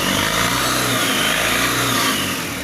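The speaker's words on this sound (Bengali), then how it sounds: "ভাই অ্যাক্সিলারেটর বাড়ি দেন, জোরে বাড়ি দেন।" A 2020 Tata pickup engine revs hard and steadily without letting up, a loud, close mid-pitched roar with no talk over it.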